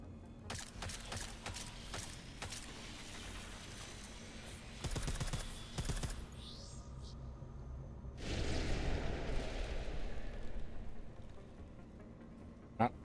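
Gunfire in Deus Ex: Mankind Divided rattles out in bursts of sharp shots over a steady hum, pausing before a louder, noisier stretch and a final crack at the end.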